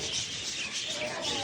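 Pet budgies chirp and twitter at a feeding stop, bright busy calls filling the clip close by, with a person's voice mixed in.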